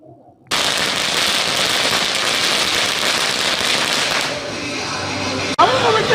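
Rapid crackling bursts of firecrackers at a street celebration in Puducherry, a dense continuous rattle of small pops that suddenly cuts off near the end, loud and close.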